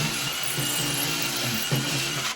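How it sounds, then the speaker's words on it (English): A regular power drill bit grinds into decorative rock for a shower build, a short, continuous buzzing whine with a few small catches as the bit bites. "putting a hole in it with a regular drill bit"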